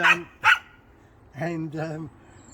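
Dogs at a garden plot bark close by, two sharp barks followed by a pair of longer, tonal yelping barks, alone with no talk over them.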